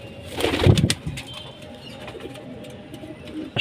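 A pigeon in a home loft gives a brief burst of wing flapping with soft cooing, close by, followed by quieter bird sounds and light background noise.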